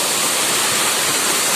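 Waterfall at a secluded forest site, a loud, dense, unbroken rush of falling water heard up close with no other sounds.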